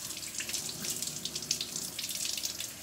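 Hands rinsed under a running tap, a continuous close splash of water into a sink with small fluctuations as the hands move through the stream.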